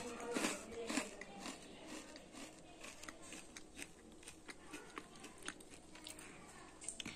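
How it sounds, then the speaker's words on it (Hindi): Crunchy mixed fryums snacks, stick-shaped with a tomato flavour, being bitten and chewed close up: a run of sharp crisp crunches, louder at first, then softer irregular chewing clicks with no talking. "तो चलिए आप इसका टेस्ट करके बताते हैं कि कैसा लगता है।"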